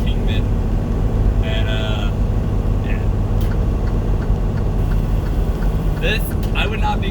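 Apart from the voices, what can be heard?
truck engine brake (jake brake) while descending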